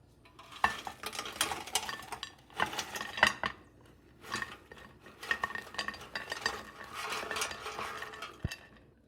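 Frozen fries come out of an air fryer basket with repeated scraping and clattering of utensils, uneven bursts of rattling metal and light crisp rustles, fairly close with no talking.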